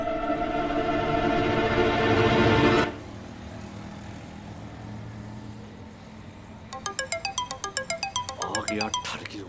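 After a loud rumbling passes and fades, a phone ringtone starts up, a rapid pulsing electronic chime repeating steadily.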